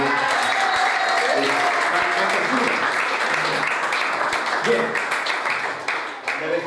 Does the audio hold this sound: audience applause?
yes